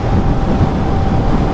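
Wind roars across the microphone during a solo motorcycle ride through South India, a loud, constant low rumble and rush with no breaks and no voices.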